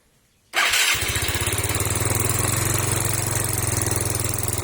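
A Yamaha Nouvo engine fitted in a converted Fino motorcycle cranks and catches after a brief pause, then settles into a loud, steady, close idle with an even pulsing beat.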